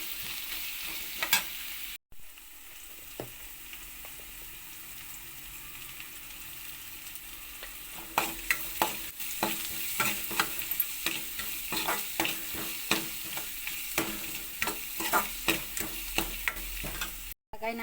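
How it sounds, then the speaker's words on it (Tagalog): Bay leaves, cloves and curry leaves are sautéed in a pan for chicken curry, making a steady sizzle broken by frequent scraping stirs of the spatula, which grow busier in the second half, with no talk. "Ito ay ginisa ko na ang ibang sangkap. Bay leaves, cloves, curry leaves, yan."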